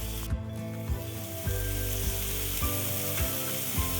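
Beef burger steaks sear in a hot pan with a loud, steady sizzle, broken by regular soft knocks and crackles, close and with no voices.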